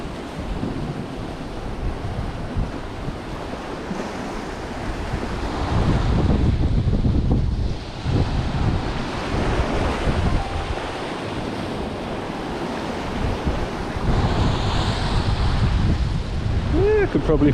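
Wind and surf on a winter coastline while lure fishing, a steady broadband roar of breaking waves and gusting wind buffeting the microphone, loud and continuous throughout.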